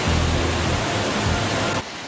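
Water roars steadily over a waterfall at a hydroelectric reservoir, a dense, loud, continuous rush that cuts off abruptly near the end.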